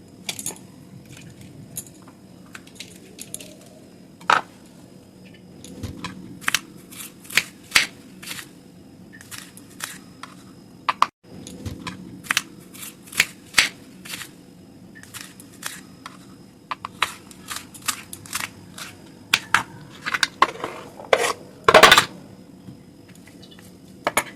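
A knife chops capsicum on a cutting board for Maharashtrian zunka, with sharp, irregular taps close by, some in quick runs and others spaced out, over quiet kitchen background.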